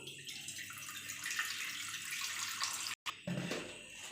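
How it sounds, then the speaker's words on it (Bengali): Water is poured into a wok to boil chowmein, a steady rushing splash running for several seconds with a brief break near the end, close and moderately loud, with no talk. "আর কড়াতে জল দিয়ে দিচ্ছি।"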